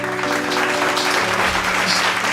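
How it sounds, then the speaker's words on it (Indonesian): An audience at a church talk event claps for two pastor guests, a loud, close, continuous burst of applause with a steady hum underneath, lasting a couple of seconds without letting up. "Boleh tepuk tangannya dulu?"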